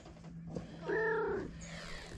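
A kitten outdoors near garden bushes gives a single short, quiet meow that rises and falls in the middle of otherwise soft ambient background.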